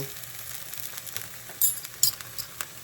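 Beef fries in fat in a skillet with a soft, steady sizzle, broken by a few sharper pops and spatters near the end.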